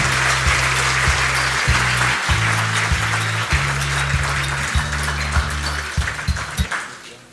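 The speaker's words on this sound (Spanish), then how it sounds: "Pedimos otro fuerte aplauso para sellar este compromiso educativo." Audience applause at an education agreement signing ceremony, steady dense clapping that carries on for the whole stretch while low musical tones play underneath.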